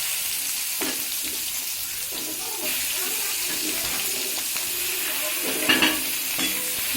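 Sliced onions fry in oil with whole garam masala, cumin and dried red chillies for an egg dish, giving a continuous hissing sizzle with soft scraping stirs and a few clinks near the end. Nobody speaks.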